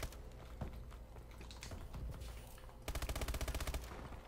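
Video game gunfire from Call of Duty Advanced Warfare in a hardcore Kill Confirmed match: scattered shots and game noise give way to a loud, rapid burst of automatic fire near the end.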